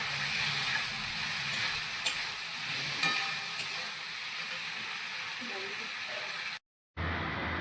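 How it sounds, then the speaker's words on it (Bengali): Spice paste is fried down in oil in a pan for a spicy vegetarian chickpea curry, making a soft, even hiss and sizzle throughout that drops out for a moment near the end. "মশলাটাকে ভালো করে কষিয়ে নিচ্ছি।"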